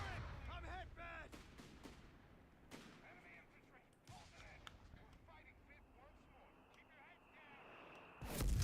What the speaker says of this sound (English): Mortar is trying to do its best